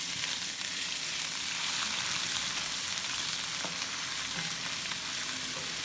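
Garlic, ginger and green chili paste frying steadily in a pan, a continuous close sizzle with faint stirring scrapes, no voices.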